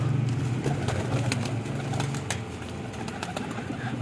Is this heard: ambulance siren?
no